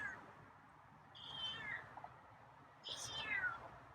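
Scruffy, a feral cat, meows twice, each call drawn out and falling in pitch, quiet and slightly distant against a low steady hum.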